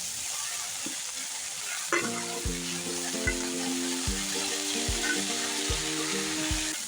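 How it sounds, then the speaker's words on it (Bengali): Water spinach greens go into hot mustard oil in a wok and sizzle loudly and steadily. Several clanking stirs punctuate the frying, and no one speaks. "তেল গরম হয়ে গেছে, আর এই পর্যায়ে আমি দিয়ে দেব কেটে রাখা শাকগুলো।"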